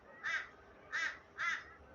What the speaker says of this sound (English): There's always something trying to grab your attention, like Mr. Crow.